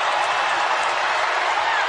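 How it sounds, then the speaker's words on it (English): Dense, steady roar of an arena crowd cheering at a women's college basketball game between Utah and Stanford, loud and unbroken throughout. "this crowd making some noise"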